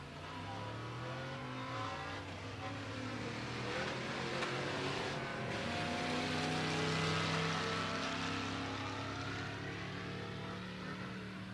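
A Chevrolet Silverado and a Ford Mustang race side by side down the drag strip at Pueblo Motorsports Park, engines roaring loud and sustained with rising, overlapping revs that swell toward the middle and then fade slightly.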